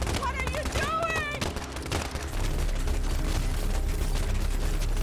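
Police gunfire rings out in the video game Life is Strange 2, a rapid flurry of shots over the game's music and effects, with a voice speaking over the start.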